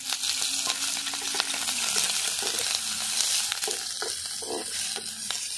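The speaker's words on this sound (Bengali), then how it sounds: "পেঁয়াজ লঙ্কাটাও ভালো করে একটু ভেজে নেব" Onion and green chili fry in a little oil in a wok for a Bengali village-style brinjal dish, with a steady sizzle broken by scraping stirs and clinks, close by and without speech.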